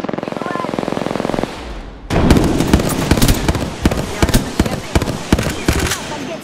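Gunfire in Apex Legends: a steady close automatic burst, then a louder barrage of overlapping shots and impacts with sharp irregular cracks, heavy and continuous to the end.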